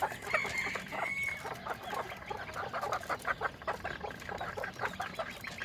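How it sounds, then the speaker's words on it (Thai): A young fighting cock about five months old, among other chickens, gives a rapid run of close clucks and small squawks that continues throughout. "ไก่ต่องามๆไก่5 เดือนปลาย"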